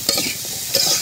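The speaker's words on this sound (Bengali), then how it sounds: "লাড়াচাড়ে দিয়ে তারপরে খিচুড়ি দেখুন" Khichuri stirred in a frying pan: a short, close scrape of the spoon over a steady sizzle, with two brief stirring strokes.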